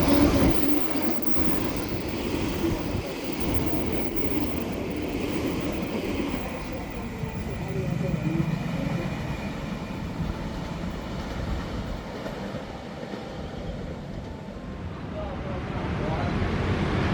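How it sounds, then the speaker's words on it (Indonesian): Argo Bromo Anggrek passenger train pulling into track 2 at Tegal station in Indonesia, a steady close rumble of wheels and carriages with faint clatter, holding at an even level throughout with some voices mixed in. "rangkaian Argo Bromo Anggrek dari Jakarta Kota ke Gambir. Masuk jalur 2."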